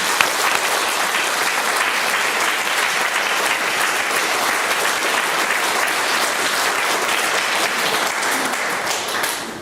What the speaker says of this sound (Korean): 격려하는 마음으로의 박수를 이제 한번 드리도록 하겠습니다